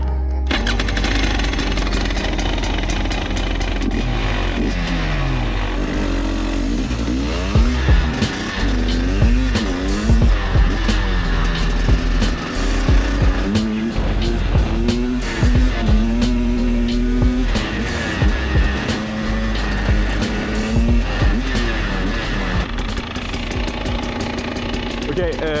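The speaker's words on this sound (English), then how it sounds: "Today I'm gonna ride a 300cc two-stroke." A 2022 300cc two-stroke dirt bike being ridden, its engine revving and bogging continuously, rising and falling in pitch close to the rider, with strong wind rumble throughout.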